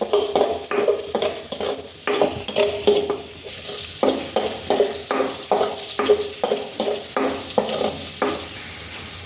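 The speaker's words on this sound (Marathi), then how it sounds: "1-2 मिनिटं कांदा परतून घेऊया" Sliced onion sautéing in a pan for a soya chunk bhaji, a steady sizzle broken by repeated scraping strokes of a spoon stirring against the metal, close and clear with no talk.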